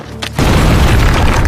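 A landmine detonates in a desert war film: a sudden deep boom after a brief lull, then a loud, sustained roar and rumble of debris filling the rest of the moment.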